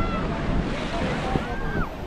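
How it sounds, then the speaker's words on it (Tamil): Ocean waves at Marina Beach in Chennai: a continuous close wash of surf with wind buffeting the microphone, steady and fairly loud throughout. "பீச்சுக்கு வந்தாச்சு, வாங்க இப்போ தண்ணியில் இறங்கலாம்."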